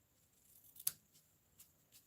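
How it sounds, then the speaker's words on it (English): Scissors trim the tails of a ribbon bow on a handmade card, giving one sharp, close snip followed by a few fainter cutting clicks in an otherwise quiet room. "I'll bring in my scissors and I'll trim"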